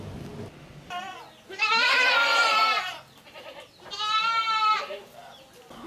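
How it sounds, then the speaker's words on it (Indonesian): Goats of the Etawa and kacang breeds on a farm give two long, loud, wavering bleats, one after the other, with a short pause between them and quieter rustling around them. "Solikin, memiliki sekitar 40 ekor kambing dari jenis etawa, kambing kacang, dan juga kali gesing"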